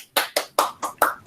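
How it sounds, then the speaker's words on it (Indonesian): Clapping for a speaker at a webinar, five distinct claps in an even rhythm, close and fairly faint, with no talk. "Kita berikan aplaus, tepuk tangan kepada Pak Andre."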